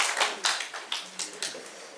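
A handful of sharp, evenly spaced hand claps ring out at a high-school information session for an international trade and foreign languages department, fairly faint and without overlapping talk.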